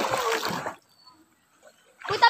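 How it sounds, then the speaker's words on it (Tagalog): Water splashes while bathing in the sea, loud bursts at the start and end with a quiet gap between. "Tamang ligo sa dagat."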